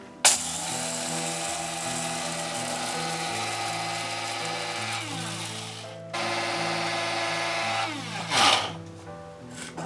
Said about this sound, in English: we will grind this in the coffee mill